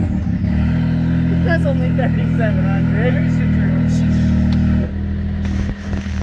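A side-by-side UTV engine idles loud and close with a steady low hum, rising briefly into a few revs, then cuts off near the end while someone talks over it.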